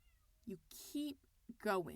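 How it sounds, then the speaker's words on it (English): A cat meows outside a door, a short whining cry or two coming through behind a person speaking close by. "I don't know if you guys can hear my cat mewing on the outside of this door."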